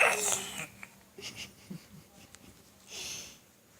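A small girl imitates her dad's snoring with a few breathy, wheezing snorts: a loud burst at the start, then softer puffs and another longer breath near the end, close to the listener.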